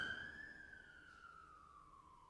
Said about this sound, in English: there was sirens going by out front